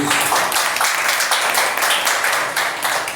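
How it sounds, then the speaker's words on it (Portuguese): Applause from a Catholic prayer group gathering, a loud sustained crowd clapping with uneven bursts, steady from start to end and alone without voices. "Dá uma salva de palmas para a palavra de Deus"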